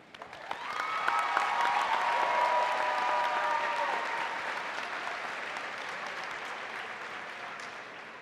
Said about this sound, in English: Please join me in giving a round of applause to the members of our graduating class